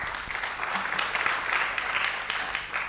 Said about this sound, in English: May we clap for her, please?